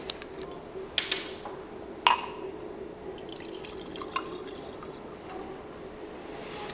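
Propanone is poured into a laboratory beaker, giving faint liquid trickles and a few small sharp glassy drips and clinks over a quiet steady hum, with no speech.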